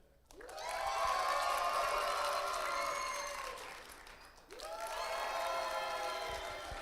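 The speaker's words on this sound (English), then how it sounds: "By audience applause, we're going to see who won, okay?" An audience at a homecoming livestream applauds and cheers to choose a contest winner, two loud sustained bursts of crowd clapping and whooping, the second following a brief dip.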